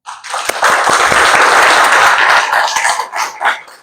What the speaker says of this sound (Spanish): Recibamos con un fuerte aplauso a Wilfer Pulgarín.